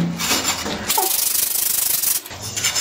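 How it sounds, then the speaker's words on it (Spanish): Steady, rapid abrasive rubbing of sandpaper against a ceramic tile edge, loud and close, running almost continuously with a short pause. "Vamos a lijarle con la lija que tenemos aquí."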